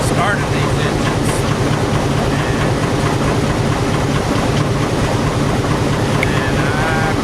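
Old stationary engines run at a lawn party show, originally started by their period compressors, giving a steady loud rhythmic chugging and mechanical clatter throughout with no pauses.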